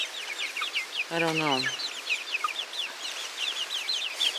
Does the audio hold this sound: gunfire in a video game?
no